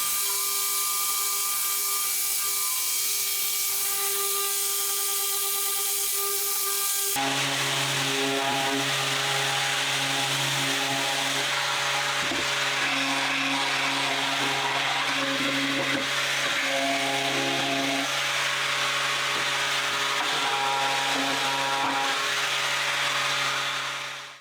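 Power sanding of the wood cabinet of a 1970 KB record player, a loud, steady whirring machine drone that shifts pitch midway and runs continuously and close until it stops.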